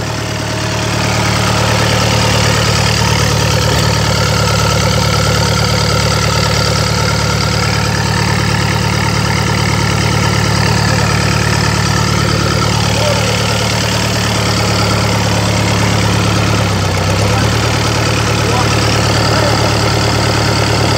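An M6040 tractor stuck in mud runs its diesel engine with a steady, loud, low throbbing drone, holding a nearly constant pitch, with a short dip near the end.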